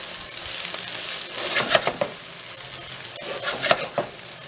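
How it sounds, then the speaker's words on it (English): A spoon stirs duxelles stuffing of scallions, onions and shallots in a hot pan, giving soft scraping strokes over a steady sizzle, close and fairly quiet. "mix that all up nice"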